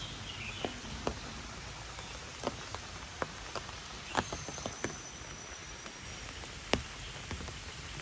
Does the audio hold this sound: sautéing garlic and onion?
no